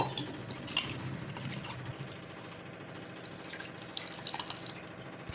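Fresh fenugreek (methi) leaves being rinsed in water, with soft dripping and splashing that stays light and steady throughout, a few brighter splashes standing out, close by and with no voices.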